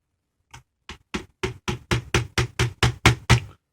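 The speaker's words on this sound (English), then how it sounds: "I set it in one of these pins, find one here, and just give it a small tap" A small hammer taps a pin on a tank model, a run of eleven crisp, evenly spaced knocks that grow slightly louder, close and alone with no talk.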